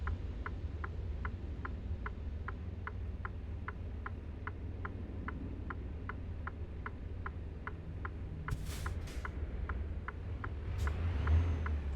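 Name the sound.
truck engine pulling away, from video game American Truck Simulator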